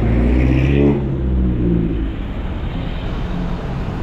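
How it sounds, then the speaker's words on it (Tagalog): A long jeepney rumbles past on a city street in Iloilo, its engine loud and close at first and then settling into steady traffic noise. "Hahaba ng jeep nila dito."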